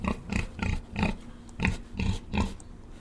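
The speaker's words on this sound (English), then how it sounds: "This is a pig." A farm pig grunts in a run of short, close, rhythmic snorts, about eight bursts evenly spaced over a few seconds with no talking.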